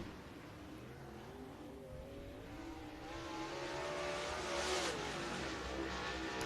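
Race car lapping the dirt oval at Duck River Raceway Park in Lewisburg, Tennessee, its engine roar building steadily from moderate to loud as it approaches, with rising revs and a broad rush of noise.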